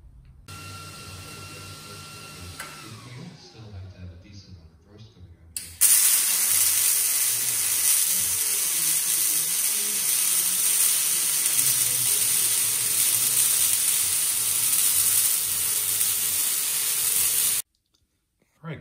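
Brackets for a roll cage body are cut from 1/8-inch steel plate, a loud sustained hissing, spraying cutting sound that runs steadily for about twelve seconds after quieter clicking, then stops abruptly.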